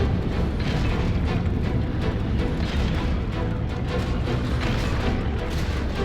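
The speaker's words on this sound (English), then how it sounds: "No, it was one of the bot things landing." A bot landing in the video game Scrap Mechanic gives a deep, rumbling boom that rolls on steadily for several seconds, loud and heavy like a nearby explosion, with no talk over it.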